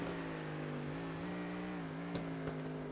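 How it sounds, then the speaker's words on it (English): A race car engine at Watkins Glen drones at a steady pitch that climbs slightly through the RPM band, heard from a distance, with a couple of brief clicks near the end. "Listen to it come up through the RPM band"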